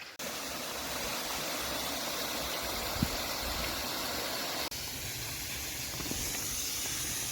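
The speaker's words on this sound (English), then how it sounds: "Oh, there's two waterfalls." Waterfall pours onto a beach of smooth, rounded boulders, a steady broadband rushing hiss, fairly faint and continuous, with a brief break partway through.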